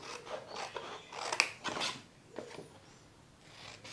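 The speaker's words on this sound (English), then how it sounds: "So we just snip those corners out" Scissors snip the corners out of cardstock in a handful of quiet, crisp cuts, separated by soft paper rustling and short pauses.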